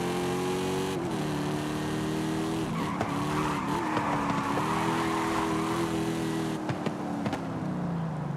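A car engine in Forza Horizon 5 roars steadily at high revs during a highway top-speed run, with the pitch dipping and rising at gear changes and faint tire noise underneath.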